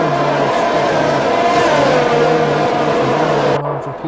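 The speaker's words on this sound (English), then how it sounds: "Looks like the Red Bull gets away nice and easy." Formula 1 race cars accelerating off the start in the F1 2021 video game, a loud sustained whine of multiple engines revving continuously with a steady buzzing drone underneath, fading slightly at the end.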